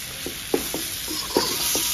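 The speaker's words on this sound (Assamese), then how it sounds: "এনেকে এতিয়া মাংস ভাজি আছো" Pieces of pork fry in a hot pan with a dense, continuous sizzle, broken by several sharp scrapes and knocks as the meat is stirred.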